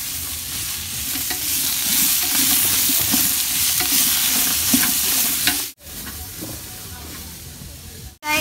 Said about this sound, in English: nag-mix siya ng onion, garlic, pati carrot